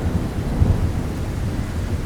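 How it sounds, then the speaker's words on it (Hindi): Steady rain pours down with a deep rumble of thunder rolling underneath, continuous and full throughout. "बारिश का मौसम शुरू हो गया है।"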